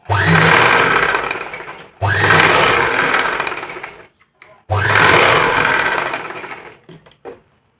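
A sewing machine stitches a blouse in bursts of loud, close, rapid whirring, three long runs separated by short pauses, with a few clicks and handling sounds between them and no talking.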